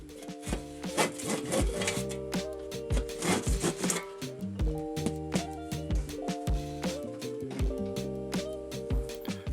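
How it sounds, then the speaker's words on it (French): Corners of a Fermacell wall panel are cut by hand saw during renovation, giving repeated rasping back-and-forth strokes in irregular bursts at close range, with no speech. "Et les coins sont terminés à la scie à main."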